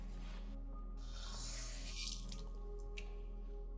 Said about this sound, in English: So I'm going to wet my Gua Sha tool with warm water here.